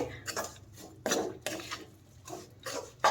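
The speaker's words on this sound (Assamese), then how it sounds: "এয়া এইখিনি এতিয়া অলপ ভাজিব, বেছি নহয়, 2-3 ছেকেণ্ড 4 ছেকেণ্ড ভাজিব" A spoon scrapes and stirs pickle with jaggery in a metal pan, about seven quiet rhythmic strokes, each a brief rasping scrape against the pan with soft pauses between.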